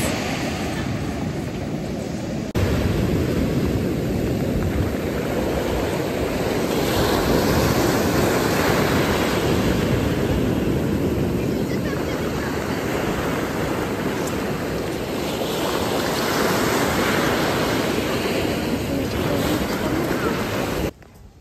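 Sea waves at a seaside beach with turquoise water, a broad continuous wash of surf rising and falling, loud and close, with a slight mechanical drone mixed in underneath.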